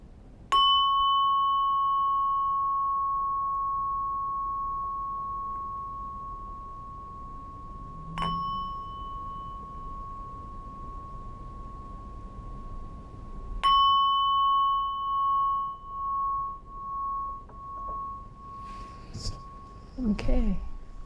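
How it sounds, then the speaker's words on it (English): A meditation bell-like gong rings three times at spaced intervals, each strike leaving a long, clear sustained tone that slowly fades; a voice begins speaking near the end. "at the third ring of the gong, you can open your eyes"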